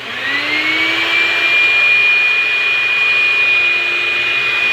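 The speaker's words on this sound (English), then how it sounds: "I have the vacuum cleaner hooked to the other end of the hose" A vacuum cleaner hooked to a Toyota Celica air conditioner drain line hose whines steadily at close range, its motor pitch rising as it spins up and then holding a high, even drone.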